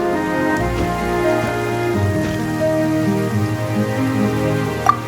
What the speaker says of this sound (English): Yet today, the downpour arrived on schedule.